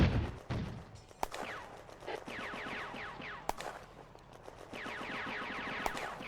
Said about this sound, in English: A German shell lands a few metres from the tanks